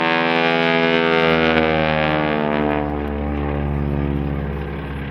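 A propeller-driven aerobatic airplane performs over water at a high-altitude airshow in Dillon, Colorado, its engine droning loudly with a steady buzzing tone that shifts in pitch and fades slightly as it climbs.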